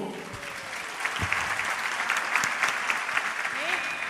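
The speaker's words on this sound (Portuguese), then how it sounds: "E as nossas palmas bem fortes para o Senhor." A church congregation applauds loudly for the pastor's 72nd birthday, with sustained crowd clapping throughout and voices audible beneath it.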